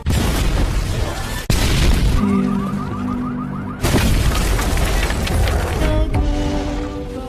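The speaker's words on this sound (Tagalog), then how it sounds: "isang napakalakas na pagsabog ang yumanig sa buong punong tanggapan" A powerful blast in a film tears through a headquarters building, with loud booming roars, a sharp crack, then a fresh surge of rumbling destruction and debris, all close and dominating.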